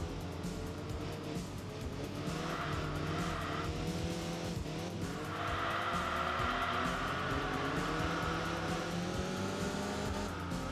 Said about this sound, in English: You can hear the low burble of a Boxer engine